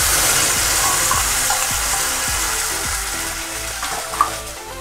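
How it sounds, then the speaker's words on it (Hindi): Browned onions for chole sizzle in a pan as spice paste goes in. The steady frying hiss runs under soft, irregular scrapes of stirring. "ये देखिए मेरा प्याज ब्राउन हो गया। मैं इसमें ये पेस्ट डालूंगी।"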